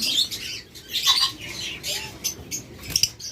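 A pair of split blue lovebirds chirp and squawk in quick, high, scratchy bursts close by, with irregular calls and a small flutter between them.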